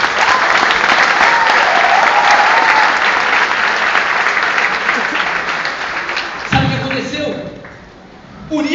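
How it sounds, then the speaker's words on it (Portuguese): A church congregation applauds the actors after a performance during a sermon, loud dense clapping throughout, with a voice heard over it and a shift in tone near the end as the applause thins. "Dá uma salva de palmas para os nossos atores aqui."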